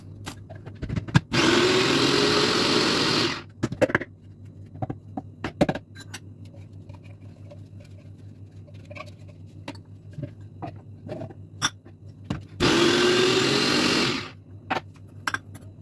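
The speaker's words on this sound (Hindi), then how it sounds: "अदरक लसण ते मिर्चां नूं मैं अलग तों ग्राइंड करांगी" An electric grinder whirs loudly in two bursts of a few seconds each, grinding ginger, garlic and chilies, with quieter clinks and kitchen handling noises between them.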